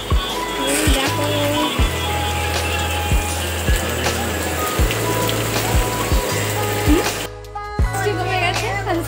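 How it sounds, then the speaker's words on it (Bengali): Rain falls at a home during a Janmashtami puja, a constant wash of drops broken by repeated dull thumps and knocks, with voices faintly in the background. "বৃষ্টি নেমেছে"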